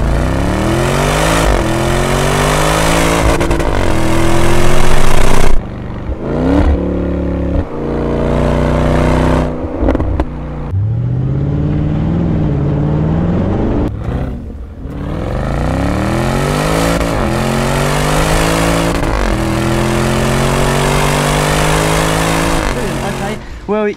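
Land Rover Defender V8 P525 with a Quicksilver stainless steel exhaust system in loud mode, revving repeatedly in deep, booming pulls that climb and drop, with a short lull before more hard revs.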